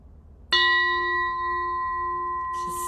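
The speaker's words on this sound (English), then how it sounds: "With eyes open, I'll invite the bell." A mindfulness meditation bell is struck once, ringing out with a sharp attack and a long, steady, pure reverberation that sustains to the end, with a faint rustle near the close.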